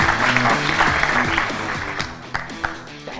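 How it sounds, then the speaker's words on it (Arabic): Sustained loud clapping from a studio audience on a Saudi sports television program, dense and continuous with a few sharper claps near the end and background music underneath. "نسمع تحيه من الجمهور"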